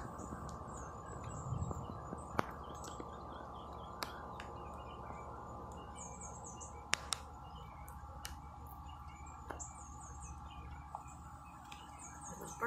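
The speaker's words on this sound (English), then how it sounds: "The birds singing." Faint birdsong in Florida during light rain, with scattered high chirps and tweets drifting over a steady, hushed outdoor background.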